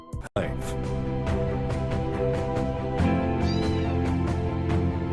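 A kitten meows plaintively, high and wavering, with overlapping sustained background tones and a sharp click at the start.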